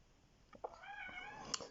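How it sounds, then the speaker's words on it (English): A house cat gives one short, fairly close meow that rises and then drawls out for about a second against quiet room tone, with a few faint clicks around it and no talking. "the cat as usual trying to get into the video"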